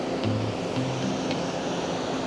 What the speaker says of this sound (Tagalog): Kaya pala dumadagundong yung yung mismong tunog ng alon.